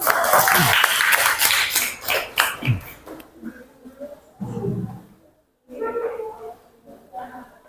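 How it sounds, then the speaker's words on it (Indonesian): Classroom students applauding a colleague, a burst of clapping in the first few seconds, then fading into scattered voices and small noises. "berikan aplaus dulu ya untuk rekan kalian"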